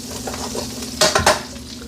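Scraping a pan coated with melted butter, loosening browned fond while cooking chicken, two short loud metallic scrapes over a steady low sizzle, no talking.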